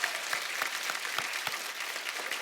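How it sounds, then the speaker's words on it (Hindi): Loud, dense audience applause for the army fills the whole stretch as a steady roar of many hands at a live event honouring soldiers, with no talking over it. "एक बार जोरदार तालियां हमारी आर्मी के लिए।"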